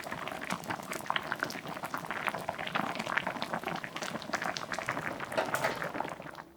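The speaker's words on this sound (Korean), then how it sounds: "수제비가 푹 익어서 퍼지지 않도록 한 번만 부르르 끓여내고 불을 꺼주세요." A pot of potato sujebi soup with dumpling-wrapper dough pieces bubbles at a steady boil, quick dense pops and gurgles continuing evenly, fairly faint and close, with no talking.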